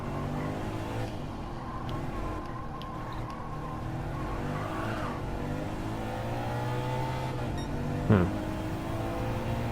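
A Subaru WRX in Gran Turismo 7 drones under power oversteer, its engine note rising and wavering with a faint skid squeal, then a short sharp chirp near the end.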